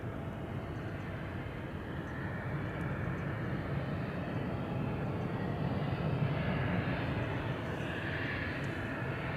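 A KLM wide-body jet taxis at Amsterdam Schiphol Airport, its steady engine roar broad and continuous at moderate distance, with no voices over it.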